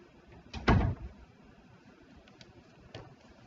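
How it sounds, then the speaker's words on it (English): A door being shut indoors before a mediation meeting, one firm near thud followed by a couple of faint clicks and knocks in a quiet room. "I'll shut the door."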